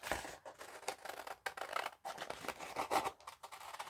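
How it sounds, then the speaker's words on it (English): Scissors snip through a printed tissue paper design in short, quiet, irregular cuts, with brief pauses between strokes and a faint papery rustle. "So what I'm going to do now is I'm going to cut this out."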